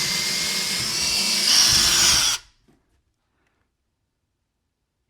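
A power drill whines loudly as it bores into a wooden board, rising in pitch, then cuts off abruptly, leaving near silence with a faint knock at the end.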